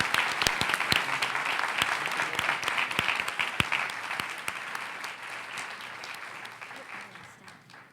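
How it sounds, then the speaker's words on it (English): A school board meeting audience applauds students for their artwork. The clapping is dense and sustained with sharp individual claps standing out, and it slowly fades toward the end. "Let's give all these students a round of applause for their beautiful artwork."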